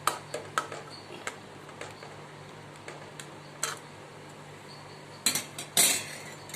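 Spoon knocking against a cooking pot while boiled mutton bones are stirred into dalcha, a series of sharp metallic clinks and taps at irregular intervals, fairly faint, with a louder clatter near the end.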